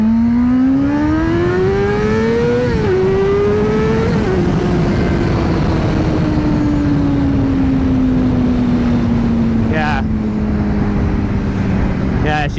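A Honda CBR600RR sport bike pulls hard in first gear, its engine note climbing quickly in pitch, briefly dipping and rising again, then easing off into a long, gradually falling drone, loud and close.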